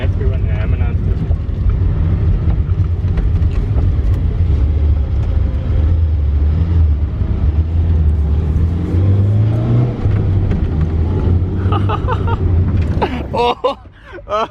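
A 1980s Volkswagen engine, first started after ten years of sitting, runs loud and close with a rough, steady drone and rising revs, then cuts out near the end while people talk nearby.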